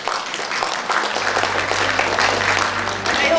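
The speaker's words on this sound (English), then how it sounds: "can we give Dean Bacamante a big round of applause?" An audience at a hotel breakout session claps continuously, a dense crackle of many hands that holds steady and swells slightly toward the end, with a low hum underneath.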